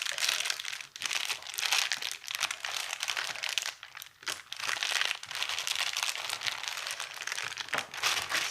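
California roll rice is pressed firmly into a dish by hand, giving a close, continuous soft crinkling and crunching texture with slight pauses, no talking.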